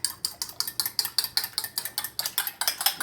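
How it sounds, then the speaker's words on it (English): A whisk beats rapidly against a bowl while making a roux-based macaroni and cheese sauce, about five crisp metallic strokes per second in a steady even rhythm, heard up close and alone. "Give this a whisk."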